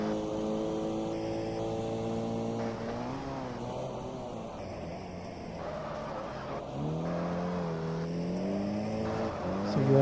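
Race car engines in the GT Legends driving game, including a Mini and an Abarth 1000, whine steadily and rise and fall in pitch through gear changes, loud and continuous without talk.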